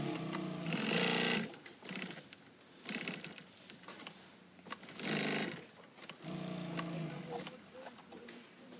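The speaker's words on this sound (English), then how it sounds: "You're going to sew a 2-inch loop to the front of the pocket back" Sewing machine stitching a 2-inch loop onto the front of a pocket back, running in several loud, rapid bursts separated by short pauses.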